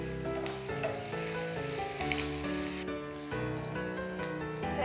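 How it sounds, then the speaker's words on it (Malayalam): Curry leaves crackle and sizzle steadily in hot oil for beef koorka, Thrissur style, a close, continuous hiss heard under background music. "നന്നായി മൂപ്പിക്കുക. ഇതിലേക്ക് കുറച്ച് വേപ്പിലയും ചേർത്തെടുക്കുക."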